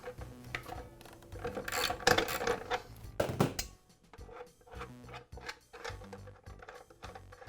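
Bolt being loosened on the guard of a Makita chop saw, with close metallic ratcheting and clicking mechanism sounds in an irregular run, a brief louder burst near the middle and quieter clicks after.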